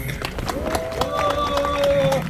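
Crowd at a patriotic rally at Mokpo Station clapping together in a quick, regular rhythm, fairly loud and close, with a voice and tones sounding over the claps.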